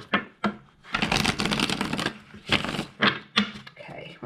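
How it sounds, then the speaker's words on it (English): A deck of tarot cards is shuffled by hand in a series of quick riffling and slapping bursts, close and fairly crisp, with no talking. "We will give the cards a shuffle to start us off."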